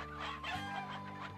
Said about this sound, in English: The chickens ran us out.